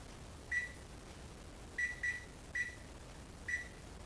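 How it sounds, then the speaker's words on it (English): Electronic oven timer being set, giving a series of short, clear beeps in an irregular rhythm (about five or six, some in quick pairs) over quiet kitchen room tone, with no talk. "Set the timer."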